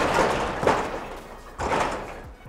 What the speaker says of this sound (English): give the door a good shake.